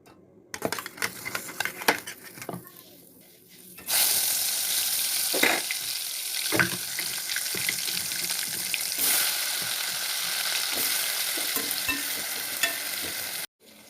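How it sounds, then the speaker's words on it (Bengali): Oil sizzles and crackles steadily as jackfruit fries in a pan, a loud continuous hiss after a few seconds of quieter clattering and stirring. "ওদিকে আমার ইঁচড় ভাজা হচ্ছে"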